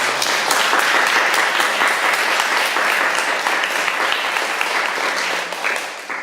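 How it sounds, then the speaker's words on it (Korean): A church congregation at a baptism applauds loudly and steadily, a dense wash of many hands clapping that holds for several seconds before easing slightly at the end. "우리 박수로 다시 한번 정리하겠습니다"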